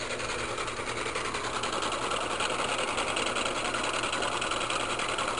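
A three-phase AC induction motor runs steadily on a test setup, giving a continuous even mechanical hum and whir at constant level throughout.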